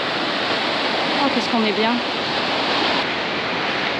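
Continuous broadband surge of sea waves breaking on the shore at Pondicherry, steady and close, with a brief spoken voice over the roar.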